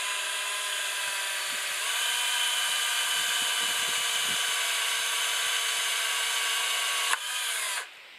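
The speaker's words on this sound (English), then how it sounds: "And then again, another eighth inch pilot hole." A DeWalt drill bores an eighth-inch pilot hole during an aluminum no-dig fence installation, its motor whining steadily and loudly for about seven seconds before spinning down and stopping.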